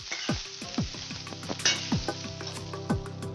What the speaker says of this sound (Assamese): আৰু মই ঢাকনি লগাই ভাজি থাকিম।